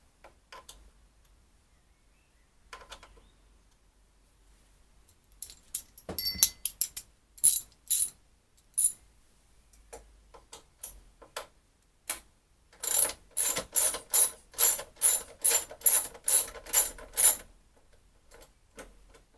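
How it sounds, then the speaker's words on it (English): Mudguard coming off a Honda Blackbird motorcycle: a quiet stretch of faint handling noises, then two bursts of rapid ratchet clicking, the second a steady run of about a dozen sharp, close clicks. "I'll take the mudguard off first, I think."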